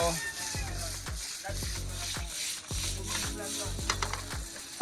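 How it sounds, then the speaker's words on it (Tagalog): Garlic, onion and tomato sizzle steadily in a pan for pinakbet, with a spatula scraping through them in a regular rhythm of strokes, close and fairly loud. "habang ginigisa natin yung mga pangpalasa natin"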